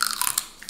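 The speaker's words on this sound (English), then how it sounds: "Eat this dirty celery." Crunchy raw celery is bitten and chewed up close during a mukbang eating session, giving a few sharp, wet crunches in under a second with no talking.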